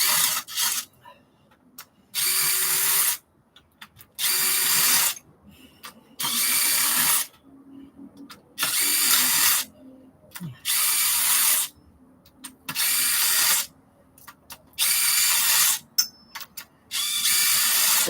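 A ratchet loosens stock engine head bolts during turbo removal, heard as about ten loud, harsh bursts of roughly a second each, separated by short quiet gaps.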